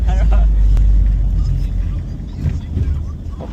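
Ford Everest turbo diesel engine droning steadily during a road test, a loud low rumble of road and engine noise with a slight swell near the end, while people talk over it.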